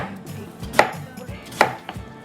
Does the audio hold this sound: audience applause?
no